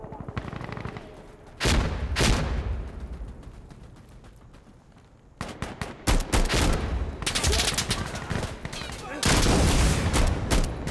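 Gunfire in Insurgency Sandstorm during a bomb defusal match: two loud, sustained bursts of rapid shots separated by a quieter stretch, the second barrage dense and prolonged, with booming reports.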